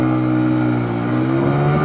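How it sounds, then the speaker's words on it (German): A motorcycle engine drones loud and close in a sustained, steady rev, its pitch holding nearly level and lifting slightly toward the end, with no voices over it. "Was ist das für ein Motorrad?"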